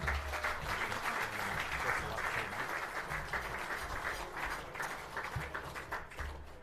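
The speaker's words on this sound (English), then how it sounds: "I think we should give them a big round of applause" A crowd gives a steady, sustained round of applause for the umpires at the 2018 NEAFL MVP awards ceremony dinner. The clapping stays even and full throughout, with no talk over it.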